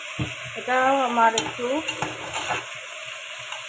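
Fish sautéing in a pan with spices, potato and sugar sizzles steadily up close with stirring scrapes throughout. Someone speaks briefly over the frying near the start.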